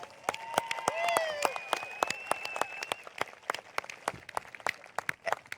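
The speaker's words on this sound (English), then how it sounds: "I'd like a huge round of applause for him" Crowd at a university football event applauds, a loose run of distinct claps and cheers with brief whoops early on, individual hands clearly audible and nearby.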